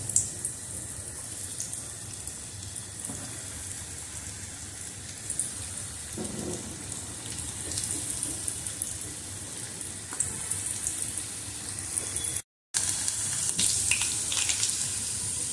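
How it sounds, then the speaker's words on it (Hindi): Macaroni balls deep frying in hot oil, a steady close hiss and crackle of bubbling oil that runs throughout with a few brief breaks and small pops, no voices. "अब हम मैक्रोनी बॉल्स को डीप फ्राई करेंगे।"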